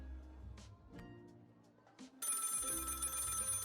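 A telephone in the video game Lil' Guardsman rings loudly and continuously, kicking in suddenly after a few quiet moments of faint game sounds.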